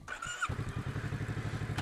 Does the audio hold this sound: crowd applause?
no